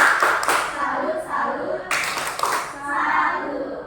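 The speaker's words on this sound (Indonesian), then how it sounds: "Oke, tepuk tangan dulu" A classroom group claps along in a short burst during a micro-teaching lesson, with sharp hand strikes scattered among voices talking over it.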